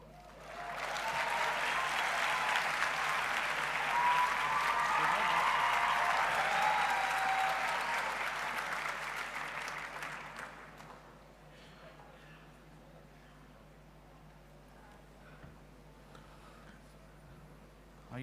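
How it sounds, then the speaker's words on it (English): Applause at a university graduation ceremony for a Bachelor of Dental Surgery graduate receiving a cum laude degree, a broad, sustained wave of clapping from a large hall audience lasting about ten seconds, then dying away to quiet room tone. "a special hand clap for her because she's got a cum laude"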